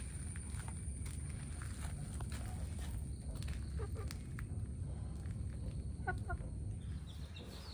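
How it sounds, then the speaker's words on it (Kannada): Chickens in a home yard, with a hen standing close and a rooster calling farther off, give soft clucks and a few short calls over a steady outdoor background hum, with light footsteps. "ಕೋಳಿ ಇಲ್ಲಿ ಬಂದು ನಿಂತಿದೆ, ಅಲ್ಲಿ ಹುಂಜ ಬಬ್ಬೆ ಆಗ್ತಾ ಉಂಟು."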